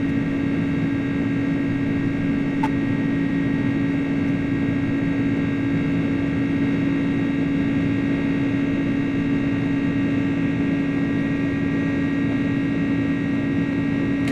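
Airborne iniBuilds A300 airliner in Microsoft Flight Simulator 2024 gives a steady, loud engine drone with a low hum and fixed whining tones. It stays unbroken throughout, with no one speaking.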